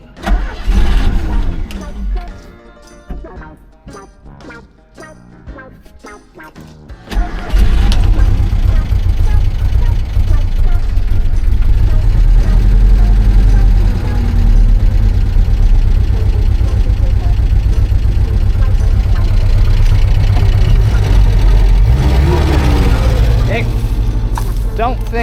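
An engine idles steadily and close by for most of the clip, a low continuous rumble that takes over after several seconds of clatter and movement, with a voice heard over it.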